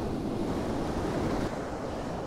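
Waves splash against rocks below a rugged coastal cliff face, a steady loud roar of surf and spray with wind buffeting the microphone throughout.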